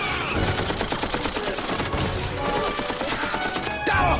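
Sustained bursts of gunfire in a Killzone video game cutscene, a dense fusillade roaring over a rumbling battle backdrop, loud and continuous with a sharper burst near the end.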